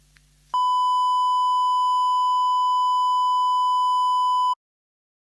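A loud, steady censorship bleep, a pure electronic tone, cuts in abruptly and holds for about four seconds over a spoken name, then stops dead into silence.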